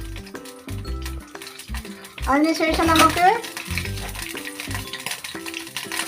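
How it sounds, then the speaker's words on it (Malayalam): Curry leaves hit hot oil and give a sharp, crackling sizzle that swells for a moment and then settles over steady background music. "അത് കഴിഞ്ഞ് അത് നല്ല രീതിയിൽ വറുത്തെടുക്കാൻ വേണ്ടി കറിവേപ്പില ഇട്ട് കൊടുക്കാം"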